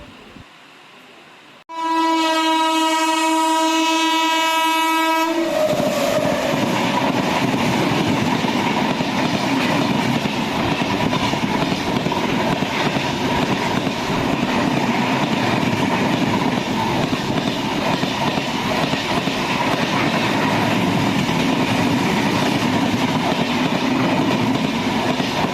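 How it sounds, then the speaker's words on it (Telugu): The Tirupati Vande Bharat Express sounds a long, loud horn of several seconds in the rain, then passes close by with a sustained, heavy rumble and the clatter of wheels over rails that continues steadily to the end. "తిరుపతి వందే భారత్ ఎక్స్ప్రెస్"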